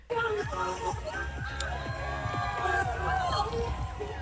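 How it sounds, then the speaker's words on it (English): Families cheer along sidewalks at a parade by the Capitol in Nebraska, with floats, signs and flags, a lively crowd babble of shouts and voices close by, with overlapping talk. "Families all cheering together, with some even giving out free hugs"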